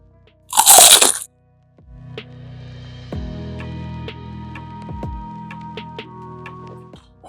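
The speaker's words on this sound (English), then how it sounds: "Let's see if we can get another crunch." A loud, sharp crunch of teeth biting into a crispy air fryer garlic and herb chicken wing, heard close up, followed by quieter chewing and small crackles.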